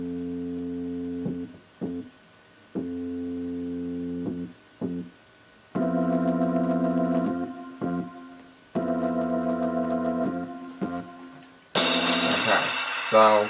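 A programmed beat with its phrases split between a synth bass and an organ: short repeated note patterns in a steady rhythm, alternating sections with brief pauses, then a brighter, busier passage at the end.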